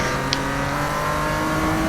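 A car in the Need for Speed racing game accelerates, its engine tone holding a steady strained drone for about two seconds with no talking.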